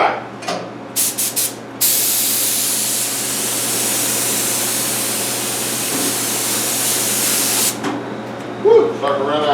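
Steady, loud aerosol spray hiss of activator being sprayed onto floating hydro dipping film for a symmetrical carbon fiber pattern, preceded by a few short bursts and ending with small handling noises.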